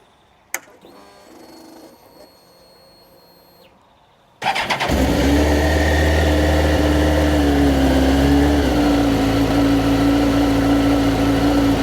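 A Suzuki GSX-R1000 motorcycle engine cold-starts, cranking and catching after a few quiet seconds, then settles into a loud, steady high idle on the choke close by.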